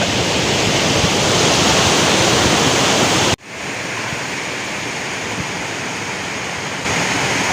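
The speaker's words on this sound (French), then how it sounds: "Il y a des cascades partout." Rushing waterfalls near the Ayous lakes in the Pyrenees, a loud, continuous broadband roar that drops abruptly partway through and then swells back up.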